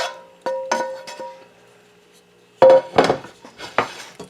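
Warm cooked ground beef being mixed into Rotel noodles, heard as scattered clinks and scrapes of a utensil against a bowl in two short bursts separated by a quiet pause.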